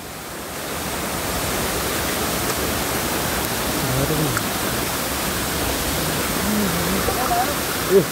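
A tall, beautiful waterfall at Dhage Chhahara in Gairi Gaun, Babai, roars as a steady, broadband rush of falling water throughout, close and continuous with no breaks.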